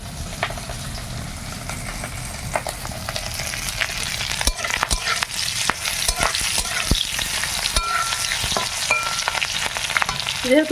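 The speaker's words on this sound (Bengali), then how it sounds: "আমি খেসারি কলাই গত রাতে ভিজে রেখেছিলাম পেটে বড়া করেছি এগুলো টকে দেবো আর এগুলো ভাজা খাবো" Soaked grass pea lentil fritters fry in hot oil with a steady close sizzle, while scattered clicks and scrapes of stirring break through in a quiet village kitchen.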